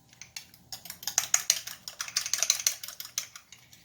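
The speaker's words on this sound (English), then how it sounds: "we're going to stir that up and add that to the skillet with your spices" Rapid clinking taps of a utensil stirring a cornstarch sauce mix for homemade General Tso chicken, a quick irregular run of close metallic scrapes and knocks against the container, quiet and without talk.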